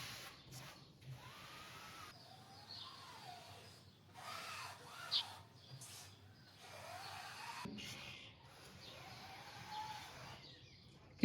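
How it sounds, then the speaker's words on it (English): Birds and seagulls call by the sea on the Portuguese coast, with a steady wash of waves beneath; the gull cries come in short rising and falling bursts, moderately close, with no talking. "Can you hear the sound of the birds and the sea and the seagulls?"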